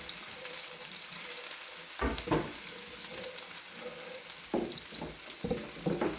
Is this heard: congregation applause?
no